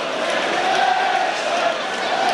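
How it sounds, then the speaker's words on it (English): A stadium football crowd applauds a player being substituted, its clapping and cheering a steady, dense wash of sound heard from a distance without a break. "nice applause from the pontoon stand for Dave Besant."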